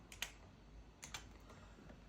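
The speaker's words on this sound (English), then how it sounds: "Let me just type this in." Keys tapped on an external computer keyboard connected to a Steam Deck through a hub, a few quiet, close clicks in small clusters over a faint background.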